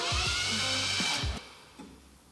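An engine with no compression cranks after a head gasket repair made with Vegemite and bacon, choked and fuelled. The starter gives a few quick, whining, uneven turns up close, then stops and dies away.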